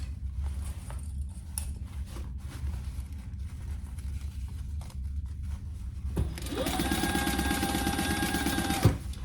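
A sewing machine stitches a quarter-inch binding seam on a slim duffle bag, starting after quiet handling and running steadily and close for the last few seconds before stopping.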